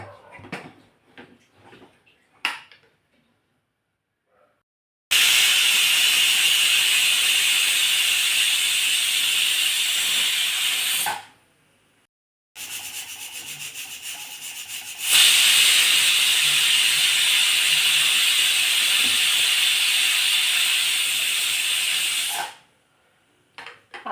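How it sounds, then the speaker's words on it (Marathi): A pressure cooker cooking masale bhat lets out two long, loud hissing whistles, each lasting several seconds with a brief pause between them. "दोन शिटी झाल्या आहेत बघा"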